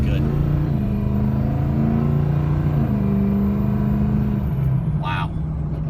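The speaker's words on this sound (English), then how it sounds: "Really good running truck." A 2006 Ford truck idling steadily, a loud close diesel-like rumble with a constant low drone, and a brief hiss near the end.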